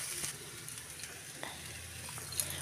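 A spiced cauliflower and potato fry is stirred in a pan, making a soft, low sizzle with a few faint scrapes and clicks, quiet and close, with no talking.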